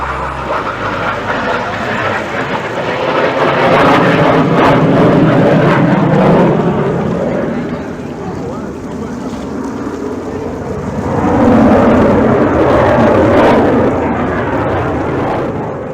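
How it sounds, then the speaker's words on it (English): A McDonnell Douglas CF-18 Hornet jet roars across the lake at the 2021 Canadian International Airshow in Toronto, a loud, sustained rumble that swells, eases, then surges again. "The roar of the McDonnell Douglas CF-18 Hornet cannot be missed, as this beast of a plane roared across the lake."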